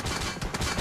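Rapid bursts of gunfire from the mobile battle royale game PUBG Mobile during a grand finals esports match, loud dense crackling shots in quick succession.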